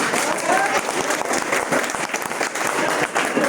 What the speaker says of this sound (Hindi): अब इतना जोर से जब आप ताली बजाओगे